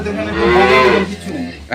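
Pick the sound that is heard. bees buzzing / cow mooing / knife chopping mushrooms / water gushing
cow mooing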